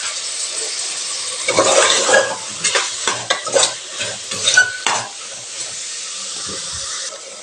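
Mushrooms are stirred and mixed in a hot pan for a mushroom biryani, with repeated close scraping strokes over a hissing sizzle that fades to a quieter simmer.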